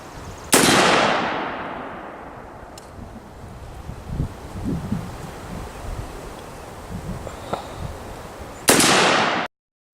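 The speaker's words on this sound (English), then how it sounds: "we're going to try to lay some NATO rounds into that A36 steel" An AR-15 fires .223 NATO rounds at an A36 steel target, two sharp loud shots about eight seconds apart, each with a long echoing decay over wind noise outdoors.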